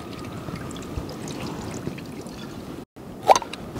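Fish sauce poured into a crawfish boil pot at a mountain campsite, a brief close splash and trickle of liquid rising near the end over steady outdoor background noise.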